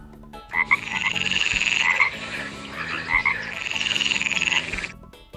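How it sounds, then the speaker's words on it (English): A green frog croaks in two long rattling bursts separated by a brief pause, close and clear with nothing else over it. "green frog"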